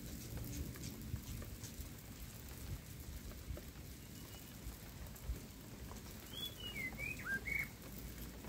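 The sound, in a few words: bird singing in garden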